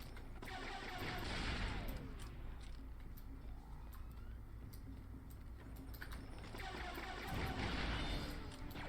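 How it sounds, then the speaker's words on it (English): Thermal grenade blast and anti-armor shot in the shooter game Republic Commando, with loud dense booms and gunfire-like bursts rolling through a continuous battle din, swelling again toward the end. "I'm just gonna be throwing a thermal nade, then shooting my anti-armor"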